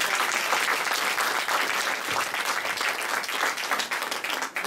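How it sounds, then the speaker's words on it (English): At a summer music recital, an audience claps loudly and steadily for its newest performers, a thick wash of many hands that eases slightly near the end. "big round of applause for all of our newest performers"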